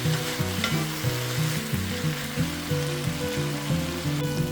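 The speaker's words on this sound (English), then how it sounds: "continuing stir-fry for about 2 minutes" Shredded potatoes stir-fried in a wok for a hot and sour dish, loud continuous sizzling with rhythmic tossing and scraping strokes throughout.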